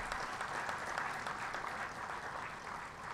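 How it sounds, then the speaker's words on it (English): An audience claps for the president at a university awards ceremony, a steady wash of dense applause that stays even and sustained throughout, with no voices rising above it. "we all should clap for our president"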